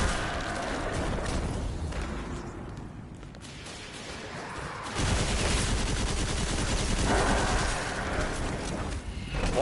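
Sustained video game gunfire, rapid machine-gun style bursts that fill the whole stretch and grow louder and denser partway through, with no talking.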